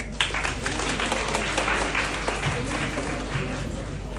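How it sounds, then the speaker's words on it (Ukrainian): An audience at a music bar claps and cheers continuously, a dense, lively wash of applause filling the room from start to finish. "Ваші оплески!"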